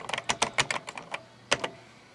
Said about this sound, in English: Let's type up a whole bunch of crap here.